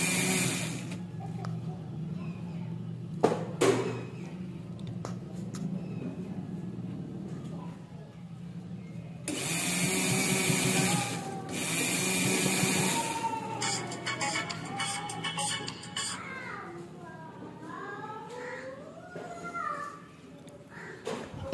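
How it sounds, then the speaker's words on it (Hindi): Sewing machine stitching a fabric sleeve, bursts of fast mechanical whirring and rapid needle chatter that start and stop between pauses. "यहाँ से इसको अटैच करते हुए सिलाई करते हुए जाएं"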